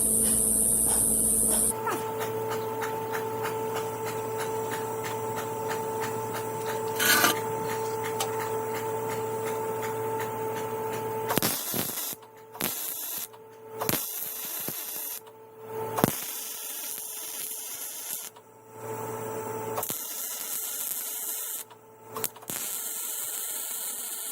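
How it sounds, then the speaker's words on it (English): A welder at work on a narrowed VW Bus beam, with a steady electrical buzz and hum running for several seconds, then broken into short bursts with pauses between, close and fairly loud, with no talking. "So let's get it welded right here."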